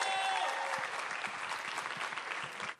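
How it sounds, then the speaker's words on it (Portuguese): Steady applause from an audience, a dense wash of clapping that holds throughout and cuts off abruptly at the end. "Leonardo Gonçalves, uma salva de palmas."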